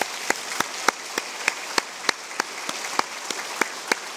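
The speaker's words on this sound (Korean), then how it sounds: "박수 한번 하겠습니다" A church congregation at a Sunday service claps together in a steady, evenly spaced rhythm, crisp unison claps repeating about three times a second over a softer background patter.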